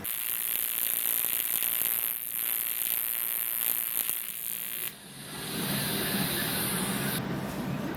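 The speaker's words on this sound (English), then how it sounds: "this is actually welding fairly well" TIG or arc welding an aluminium intercooler pipe, a steady buzzing, hissing crackle that runs continuously close by, dips briefly near the middle, then resumes with a rougher, louder fizz.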